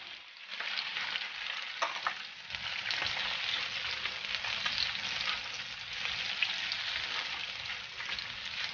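Garlic and onion sizzle in hot oil in a pan for tortang talong, a continuous loud frying hiss close up with a few stirring scrapes and no talking.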